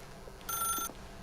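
A telephone in the video game The Stanley Parable gives one short, faint ring lasting under half a second, set against quiet room tone.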